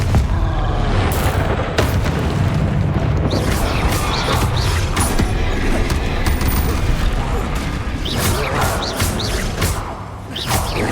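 Repeated blasting-spell explosions in a Harry Potter video game, a string of loud booms and crashing impacts with rapid, gunfire-like bursts, layered over game effects and scattered voices.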